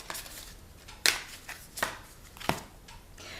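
Tarot cards being shuffled by hand, heard as three separate sharp riffles against a quiet background, close and fairly faint.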